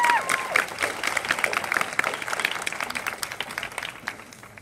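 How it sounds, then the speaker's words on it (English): An audience claps for a choir soloist at a music educators' conference performance, dense steady applause with a few whoops and cheers mixed in, gradually thinning toward the end. "Let's give her a round of applause."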